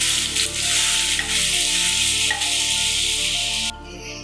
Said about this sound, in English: I'll saute these onions for a minute.